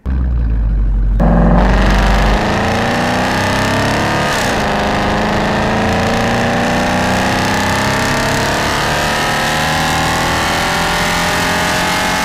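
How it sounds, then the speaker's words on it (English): A Ford Mustang engine starts with a deep rumble, then idles and revs steadily, the exhaust droning loud and close throughout. "he wanted to record the exhaust sound from his Mustang"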